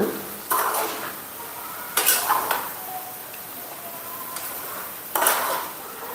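A spoon scrapes and clanks against a pan while cabbage stir-fry is stirred, giving a few sharp metallic knocks over a soft, steady background hiss.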